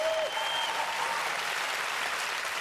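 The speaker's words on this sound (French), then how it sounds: "Par applaudissement, il y a combien de femmes dans la salle?" Women in a comedy show audience applaud when asked to make themselves heard, a broad, steady wash of clapping at moderate level with a few cheers and whoops over it.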